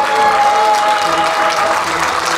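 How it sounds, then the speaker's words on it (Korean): An audience at a year-end party applauds a folk performer being introduced, a dense, steady burst of clapping with a faint tone sustained underneath. "박수 한번 보내주세요."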